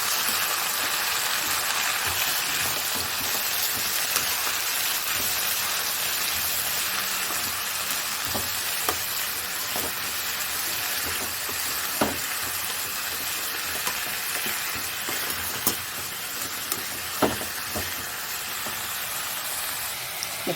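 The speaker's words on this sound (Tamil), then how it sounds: "இது எல்லாத்தையும் சேர்த்து நல்லா வதக்கிக்கிறேன்." Mint and fenugreek leaves sautéing in a pan for donne chicken biryani make a long, even sizzle like light rain, with scattered sharp ticks of spatula stirring over the close, steady frying.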